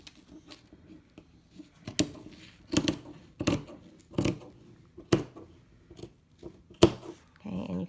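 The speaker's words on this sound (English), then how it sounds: "You're going to continue all the way off of the fabric." Scissors snipping through fabric while cutting a pintuck panel, a series of sharp, close crunchy cuts spaced roughly a second apart, with some quiet rustling between them.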